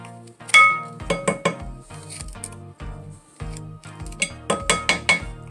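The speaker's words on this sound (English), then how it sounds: "I'm gonna do the rest with a spatula. I'm just gonna remove some of the excess" A spatula scraping excess cookie dough from a bowl for white chocolate macadamia nut cookies, giving close, irregular clinks and scrapes in quick clusters with short quiet gaps between.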